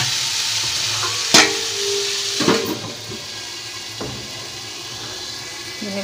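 Potatoes fry in a pan for a rajma and aloo dish, giving a steady bright sizzle with occasional stirring clinks and scrapes of a utensil against the pan, close and continuous.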